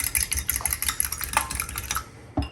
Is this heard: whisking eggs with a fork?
yes